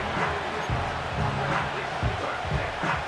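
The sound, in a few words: stadium crowd cheering in the Madden NFL 25 video game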